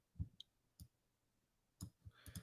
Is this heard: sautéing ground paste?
no